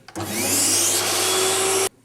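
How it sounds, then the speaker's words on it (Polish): A vacuum cleaner hums steadily and loudly while cleaning the inside of an HP laser toner cartridge and its sponge roller, starting abruptly and cutting off after under two seconds. "Wnętrze kadrydża odkurzamy za pomocą odkurzacza, a w szczególności wałek gąbczasty, obracając go dookoła własnej osi."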